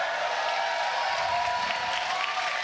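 A crowd at PAX cheers and applauds steadily before Game 6 of a tournament finale, a dense wash of clapping and shouting throughout.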